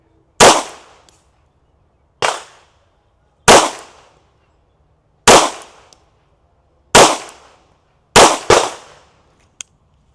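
A Bersa 2011 pistol fires seven sharp, loud shots at uneven intervals, two in quick succession near the end, each with a short ringing decay outdoors.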